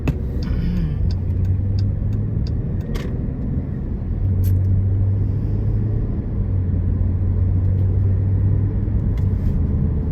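A car drives along a road near a resort in Celebration, heading toward I-4, giving a steady low engine and tire rumble inside the cabin with a faint hum that rises and holds.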